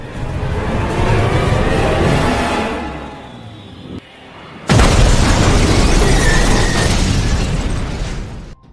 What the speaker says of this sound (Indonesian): Dia mendorong mobil mereka hingga masuk ke jurang dan meledak.